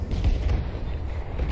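A rocket explodes in the video game Battlefield 2042, heard as a loud, deep rumbling blast that rolls on and then fades, with no voices over it.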